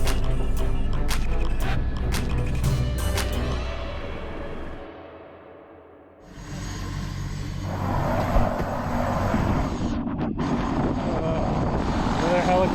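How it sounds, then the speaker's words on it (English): A helicopter flies over an Alaskan glacier near Juneau, its engine and rotor drone loud and steady throughout, dipping briefly midway before swelling again with broad wind-like noise. "Another helicopter ride"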